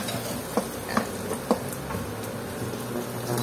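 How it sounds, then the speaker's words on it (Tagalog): Onion sautés in a pan after garlic for a Tuna Panga miso sinigang, a steady close sizzle with a few soft stirring clicks. "At matapos natin gisahin yung bawang, sunod na natin yung sibuyas"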